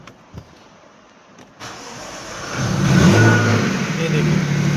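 A Jaguar F-Type engine cranks at length, then catches and rises into a loud, rough running roar, heard close up in a garage while the car has a misfire and check-engine fault.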